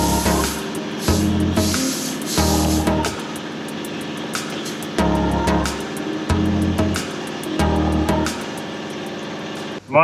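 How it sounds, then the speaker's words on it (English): Bursts of spray painting on a 79 Series Landcruiser during rust repair, several loud hissing blasts of a few seconds each separated by short pauses, over a steady mechanical hum. "Give us a test spray on here."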